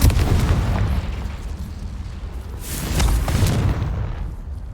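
Confringo blast spell cast in Hogwarts Legacy, a fiery explosion with a booming burst around the middle, over a rumbling game background and steady ambient noise.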